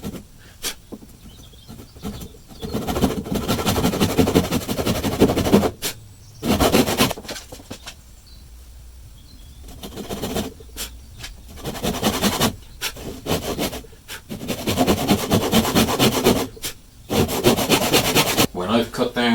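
A hand saw cuts timber for a bridle joint, the rasping back-and-forth strokes coming in several close, loud bursts separated by short pauses.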